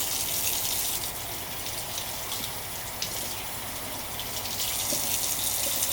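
Water pours steadily into a container for rooted plant cuttings, a continuous broadband gush from a tap or jug that stays close and fairly loud, with no talk over it.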